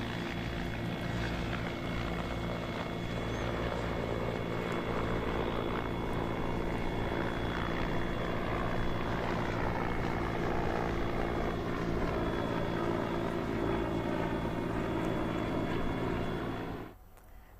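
An Indian Air Force Mi-17V5 helicopter flies close overhead during a firefighting rescue drill in Arunachal, its loud steady rotor chop and turbine whine running without a break before dropping off sharply at the very end.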